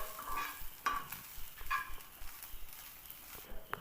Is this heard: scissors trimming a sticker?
no